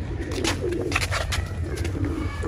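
Pigeons perched on rooftop lights coo in low, throaty bursts, a close flock calling continuously over a humming background with brief higher chirps.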